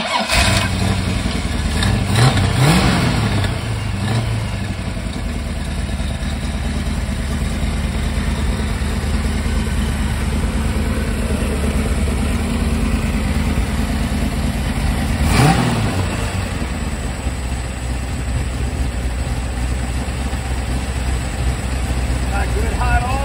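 An AMC 390 high-performance V8 runs loud and close, revving sharply near the start and again midway before settling to a steady rumbling idle, with a voice talking over it.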